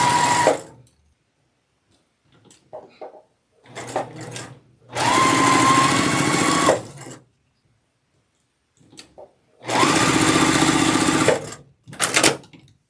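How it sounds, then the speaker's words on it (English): A sewing machine stitches quilt block pieces with a quarter-inch seam in short, loud, close bursts of rapid whirring. Quiet pauses with faint handling of the fabric separate the bursts. "we're going to sew with 1/4 inch seam allowance"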